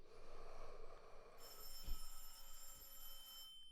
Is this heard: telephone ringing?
yes